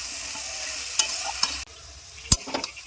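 Mixed vegetables sautéed with spices in a pan for a vegetarian five-green curry, a soft steady sizzle broken by a few sharp spatula scrapes and one loud clack near the end, close by with no talking.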